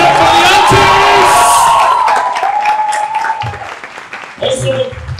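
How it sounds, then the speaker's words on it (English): An audience at a music performance and production showcase breaks into loud, sustained clapping with cheers, whoops and shouts, the roar easing slightly midway before surging again. "So please give a round of applause for everyone that's been on the stage."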